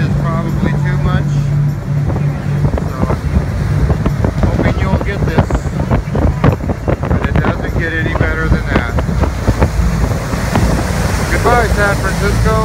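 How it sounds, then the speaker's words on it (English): Strong wind blowing near the Golden Gate Bridge in San Francisco, heard as loud, constant buffeting and roar across the microphone, with people talking through it. "The wind is probably too much."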